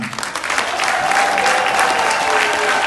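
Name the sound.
applause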